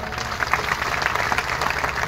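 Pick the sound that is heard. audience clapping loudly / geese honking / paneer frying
audience clapping loudly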